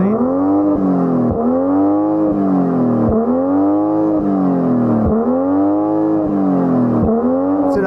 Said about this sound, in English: the sound that this 6-cylinder engine can make. So go on, rev it up,